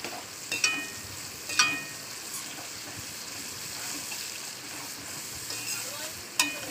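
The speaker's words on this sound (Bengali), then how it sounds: "মশলাটা ভালো করে আমি তেলের সঙ্গে ভাজা করে নেবো" Ground spices, chilli and garam masala powders, frying in oil for a potato curry, giving a soft steady sizzle with a few sharp utensil clinks and stirring scrapes.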